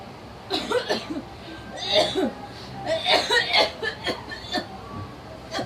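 A man coughs in repeated harsh bursts over about five seconds, close and fairly loud, with some throaty, voice-like sounds mixed in.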